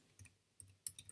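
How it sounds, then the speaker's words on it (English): Quiet, crisp computer mouse clicks, four small taps in quick uneven succession, close and faint in an otherwise still room. "I'm just going to click on that"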